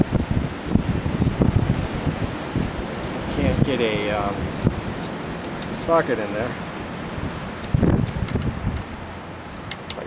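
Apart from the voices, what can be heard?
strong wind blowing on the microphone outdoors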